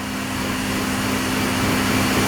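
A high-velocity dog dryer blows hard on a dog's coat, a loud, constant rushing roar with a steady motor hum underneath, close and alone.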